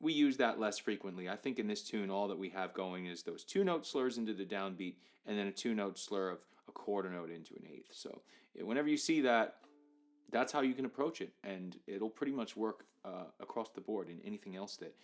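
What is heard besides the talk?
No everyday noise stands out behind the speech.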